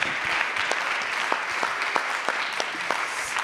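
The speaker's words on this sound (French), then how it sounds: "Je vous propose qu'on les applaudisse à nouveau." A conference audience applauds the speakers after a discussion session, giving a steady, moderately distant burst of clapping that lasts throughout.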